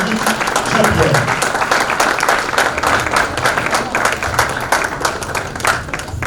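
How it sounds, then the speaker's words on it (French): An audience in a hotel hall applauds at a mock-trial pleading event, a steady wash of clapping that lasts throughout with some voices underneath. "Je vous prie d'applaudir Maître Stéphanie Jean-Pierre."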